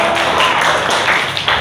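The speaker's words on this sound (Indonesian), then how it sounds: "Beri tepuk tangan untuk kelompok Nyaris" A classroom group briefly applauds another group: a short, dense wash of clapping, steady and fairly loud, heard alone.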